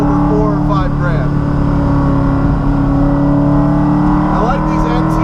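A Coyote V8-swapped Porsche Cayman with 425 wheel horsepower drones steadily from inside the cabin while driving, a loud continuous engine note holding fairly constant revs with a voice speaking over it.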